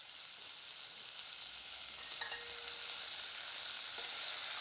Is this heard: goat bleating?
no